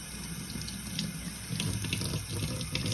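Water running steadily from a sink tap, a constant splashing hiss with a slight change in flow partway through, close and moderately quiet with no talk.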